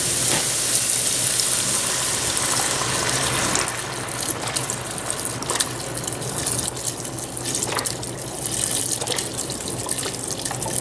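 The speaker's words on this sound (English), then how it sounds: "Then I'm going to add some chicken stock, beef stock, chicken stock," Chicken stock pours from a container into a pot of black-eyed peas, a loud, continuous splashing gush of liquid that eases slightly partway through, close and without any talking.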